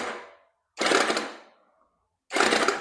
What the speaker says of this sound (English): Motor is turning.